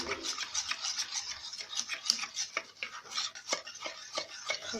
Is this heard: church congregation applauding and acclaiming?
no